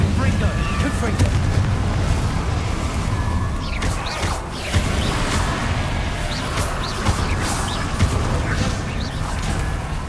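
Fire and explosion spells such as Confringo bursting in the game Hogwarts Legacy, booming blasts and crackling impacts over a continuous loud combat soundscape, with a voice speaking over the effects.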